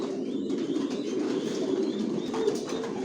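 Racing pigeons in a breeding loft, healthy vaccinated pairs raising chicks, fill the space with a dense, continuous murmur of overlapping coos from many birds at close range.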